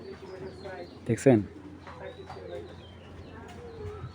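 A racing pigeon coos in a few low, throaty bursts close by, with a louder coo near the middle, while someone talks over it.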